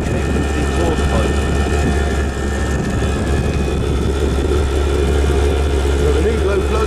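A diesel heater with a fault runs with a loud, steady low roar and droning hum, an uneven mechanical whine woven through it, while someone talks over the noise.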